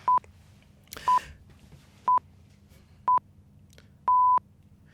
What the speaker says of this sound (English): followed by a countdown beep for the final 5 seconds